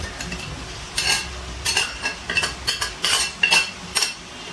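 A spoon scrapes and clinks against a pan while mixed fried rice with soy sauce, shrimp, chicken and egg is gently stirred, giving a string of close, irregular metallic scrapes over a faint sizzle.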